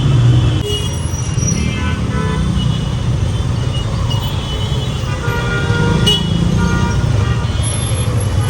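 A heavy traffic jam on a Dhaka road gives a dense, loud rumble of idling engines, with scattered car horns honking near and far throughout.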